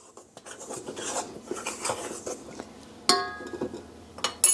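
A spoon stirs plain all-purpose flour in a mixing bowl, giving close, irregular scraping and light clinks, with a sharper knock against the bowl near the end.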